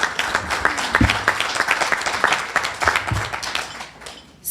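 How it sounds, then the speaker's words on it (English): Audience applause at a Manatee Tiger Bay Club luncheon forum on healthcare, a steady patter of many hands clapping at moderate loudness that thins out near the end, with a few individual sharp claps standing out. "Please give her a round of applause."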